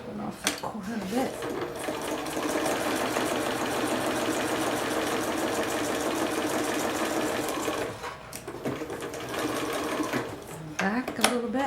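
A sewing machine stitches fabric in a steady continuous mechanical whir, briefly pausing and restarting, with the needle held down while turning a corner.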